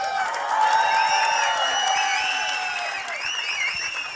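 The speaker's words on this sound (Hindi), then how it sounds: "ट्रेलर क्या कहता है जरा सा ताली बजा के बताओ यार" An audience at a film event claps and cheers, a dense crowd roar with whoops that rises over the first second and keeps going steadily to the end.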